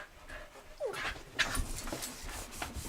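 Excited puppies pant and whimper close by, with quick breathy bursts, a short whine and some scuffling over a low background hum.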